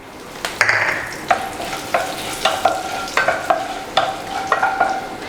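Urad dal and dried red chilies fry in hot oil for coconut chutney, a soft steady sizzle broken by repeated scraping strokes of a spoon stirring in the pan, close and clear, with no voices.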